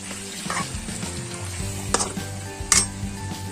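Black gram dal boiling in a pot, a steady bubbling simmer with a couple of sharp metallic clinks from a utensil against the pot, close and fairly loud, no voices.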